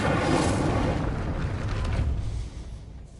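Incendio fire spell cast in Hogwarts Legacy, a loud, dense whooshing burst that starts at full strength and fades away over about three seconds, with no talking.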